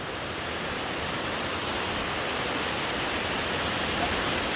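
Diamante waterfall roaring in a steady, dense wash of broadband noise, unbroken and even throughout, with no distinct voices.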